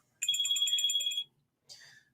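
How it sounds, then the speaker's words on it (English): A phone rings with an incoming call alert: a loud electronic ringtone with bright, pulsing tones lasts about one second, then after a short gap a brief second burst starts. "Oh, I'm getting a phone call."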